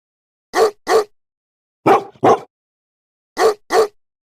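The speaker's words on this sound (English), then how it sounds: "Dog." A dog barks in three clean pairs of sharp woofs, evenly spaced with silence between, loud and close with nothing else heard.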